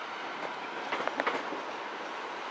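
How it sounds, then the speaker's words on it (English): A Southeastern Class 375 electric train, a 12-car service, passes at Ashford International station. Its steady broadband rumble and rushing wash holds throughout, with a brief cluster of wheel clicks in the middle, and no one talks. "Southeastern service from Ramsgate to London Charing Cross"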